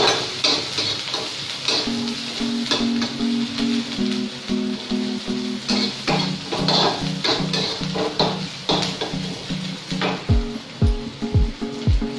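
Onions browning in a pan as filling for a paneer sandwich, with steady sizzling and stirring scrapes throughout, a musical tone underneath and no talk.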